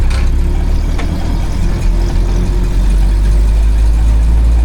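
Willys jeep engine running while driving, a steady loud low rumble with constant droning tone throughout.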